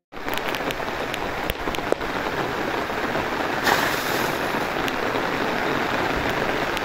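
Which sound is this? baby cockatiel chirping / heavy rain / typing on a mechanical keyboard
heavy rain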